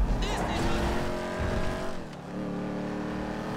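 A race car in a GTA 5 race roars at high revs with tire squeal and a gear shift, loud and continuous under a man's speech.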